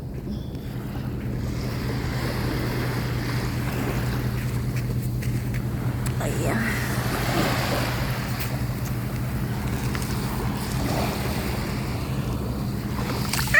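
Sea waves wash continuously against the shore beside someone standing at the water's edge, a steady broadband rush with wind buffeting the microphone and a brief murmured word partway through.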